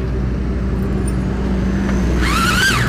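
An engine runs steadily after a spark plug check, a close, even motor drone. A rising and falling whistle-like tone rides over it near the end.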